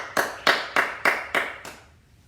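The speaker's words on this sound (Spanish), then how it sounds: "Denle un fuerte aplauso a su nombre precioso" A church congregation claps in a steady rhythm, five sharp, evenly spaced claps ringing out clearly before the sound fades into quiet.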